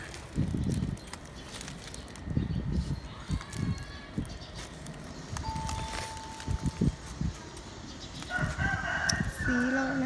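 A rooster crowing near a Thai home amid rustling and scattered knocks and movement, with a faint crow partway through and another drawn-out call near the end.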